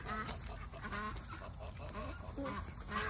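Backyard chickens cluck and chatter close by in a busy overlapping flock, with short repeated calls throughout.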